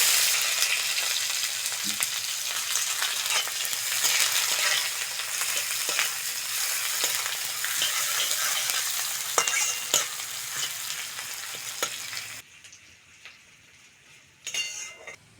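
Panch phoron spices and chopped onion fry in mustard oil in a karai, a steady loud sizzle with occasional stirring clinks, dropping abruptly to a quieter hiss near the end with a brief final burst.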